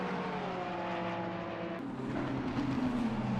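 Race cars in a sim racing game at Spa, one drafting behind an NSX down a straight, with steady engine drone and rising pitch sweeps as cars pass, continuous and fairly loud with no talk.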